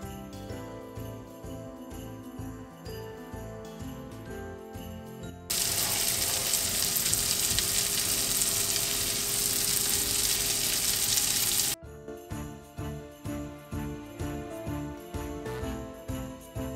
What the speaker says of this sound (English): just put them in the pan together with some margarine or butter or oil or what you want to fry them in